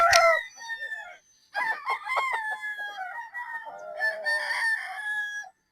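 A locally bred straight possum gamefowl rooster lets out a clear, close crow, then several clucking and crowing calls follow in separate bursts with short silences between.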